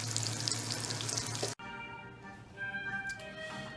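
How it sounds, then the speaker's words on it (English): Mushrooms with garlic sauteing in a pan, a soft sizzle that cuts off abruptly partway, followed by quieter faint crackle and background tones. "we got some sauteed mushrooms with garlic"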